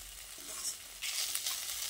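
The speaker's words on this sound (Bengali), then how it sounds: "করলা ও বড়িটা দিয়ে এর সঙ্গে খুব ভালো করে মিশিয়ে নিচ্ছি" Fried bitter gourd and bori lentil dumplings being stirred together in a pan, a faint, steady sizzle with soft scraping strokes that grow slightly busier midway.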